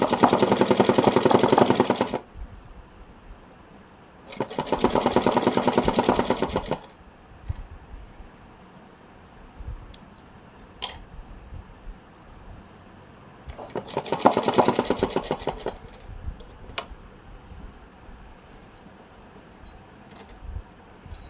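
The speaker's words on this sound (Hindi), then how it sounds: "अब इस पे इस तरीक़ा से एक सिलाई लगा लेते हैं, गोटा पट्टी लगा के सिलाई करते हैं।" Sewing machine running in three bursts of about two to four seconds each, stitching gota patti trim onto a small doll dress, with quiet pauses between runs and no talking.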